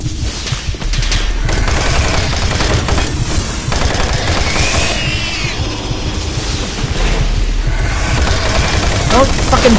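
Rapid, loud gunfire from the video game Doom 3 rattles in dense bursts and volleys with booming hits, nearly continuous across the whole stretch.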